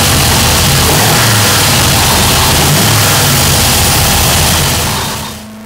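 A Holley double-pumper carbureted engine on a dyno runs loud and steady at high revs, with a broad sustained roar that holds for about five seconds before cutting off abruptly near the end.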